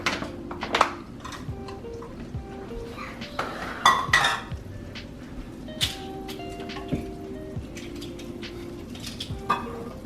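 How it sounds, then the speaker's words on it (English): A whisk works through pumpkin pie filling in a bowl, with steady soft stirring and scraping broken by sharp metallic clinks against the bowl's side, close and moderately quiet. "take the whisk and go ahead and start mixing all that together"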